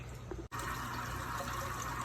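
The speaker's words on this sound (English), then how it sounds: "So we're gonna fill this tank up right now" Water steadily pouring and splashing into a reef aquarium tank as it is filled, a continuous rushing wash of liquid, close by and fairly loud, with a brief dropout near the start.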